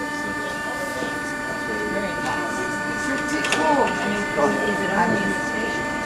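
The Bernina Express runs on rails between Tirano and Switzerland, a continuous rumble with steady tonal hum and intermittent squeals and clanks, while people talk over it.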